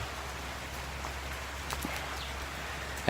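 Steady, even rainfall, soft and continuous with a faint patter of drops on surfaces throughout, no voices.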